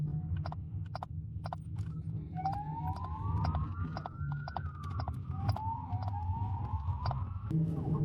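Ambulance siren arriving at a motorcycle accident scene, rising and falling wail in the middle distance over a low engine rumble, with repeated sharp clicks and taps nearby.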